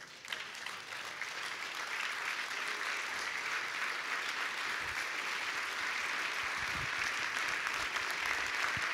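A church congregation applauds steadily and loudly to acclaim the Lord, a dense, sustained clapping that continues unbroken throughout.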